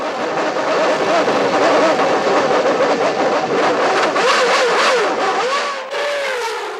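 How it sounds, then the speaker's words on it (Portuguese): A Williams Formula 1 car with a Renault engine misfires on track during a race, a loud, continuous, stuttering engine roar with uneven surges and no talking. "Dá até para ouvir o motor Renault da Williams rateando."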